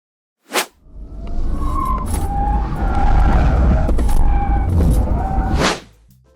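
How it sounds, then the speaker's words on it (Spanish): A 2024 Kia EV9 electric SUV weighing nearly three tonnes weaves through a slalom test, its tires squealing in long, wavering whines over a loud, sustained road roar, after a brief sharp burst at the start. "el EV9 sale rápido desde parado"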